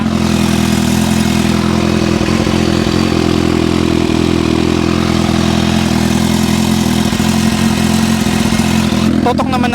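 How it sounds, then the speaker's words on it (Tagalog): A Kawasaki H2 motorcycle fitted with a titanium exhaust idles loudly up close, a steady deep rumble with light mechanical clatter, briefly joined by a voice near the end. "Ito naman yung tunog ng makina."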